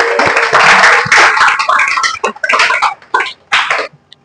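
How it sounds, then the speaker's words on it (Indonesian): A burst of clapping from a small classroom group, dense at first and then thinning into scattered, uneven claps that trail off near the end. "Oke, kita kasih tepuk tangan untuk kita semua."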